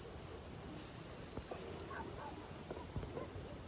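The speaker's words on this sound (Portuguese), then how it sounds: "O cachorro tá muito atiçado" An agitated dog barks at night, faint and distant, with a few scattered barks and yips under a steady high insect-like drone.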